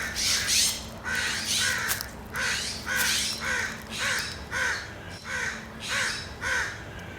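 Crows caw repeatedly in a steady series of harsh, loud calls, evenly spaced and close by, with no talking.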